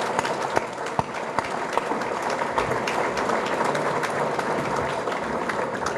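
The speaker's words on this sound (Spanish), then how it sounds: "el doctor Mario Vergara, a quien invito ahora sí con un fuerte aplauso para que dé su conferencia" Audience at a Spanish-language lecture on policy breaks into sustained applause for the conference speaker, a dense steady wash of clapping with a few sharper claps standing out near the start, no speech over it.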